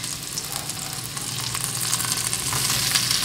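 Pork belly pieces returned to a hot pan crackle and sizzle loudly and steadily, with bright spattering pops throughout and no voices.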